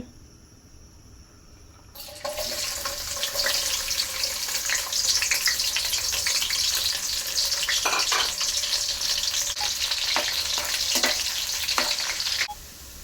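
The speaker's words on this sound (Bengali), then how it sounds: "দিয়ে দিচ্ছি তেল, দিয়ে দিচ্ছি রসুন কুচি" Chopped garlic hits hot oil and bursts into a loud, sustained sizzle after a quieter opening, crackling steadily for about ten seconds before dropping off abruptly near the end.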